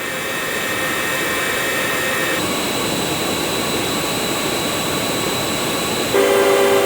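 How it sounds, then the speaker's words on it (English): A steady, roaring simulated jet engine whine modeled on the General Electric J79-GE-11A turbojet of the Lockheed F-104 Starfighter, with high tonal harmonics that shift pitch partway through, loud and continuous with no voices. "The turbojet engine J79 GE11A of the Lockheed F-104 Starfighter"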